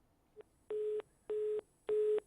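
A phone line drops during a live call, followed by three evenly spaced busy-signal tones, each about a third of a second long with short gaps, clear and moderately loud against a quiet background.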